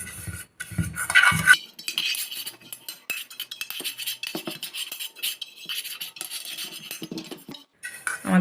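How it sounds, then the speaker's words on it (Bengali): A brush spreads refined oil around the inside of a bowl while an eggless cake is prepared. It makes light scraping strokes with small metallic clinks and taps, close and fairly quiet, with short pauses and no talking. "আমি এই বাটিটার মধ্যে একটু রিফাইন তেল ব্রাশ করে নিচ্ছি।"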